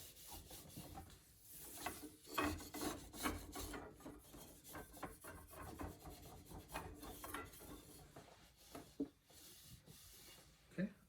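Quiet, uneven rubbing and scraping of a sanding cloth against a wooden tabletop and its edges, strokes coming in irregular bursts, close and soft.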